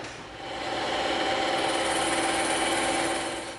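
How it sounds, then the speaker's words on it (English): Bandsaw slicing a 3/4-inch slab of EVA foam, a steady high-pitched whirring hum with a grainy rasp that holds at even loudness for several seconds, close by and with no talking. "We're going to cut right along this edge on the bandsaw."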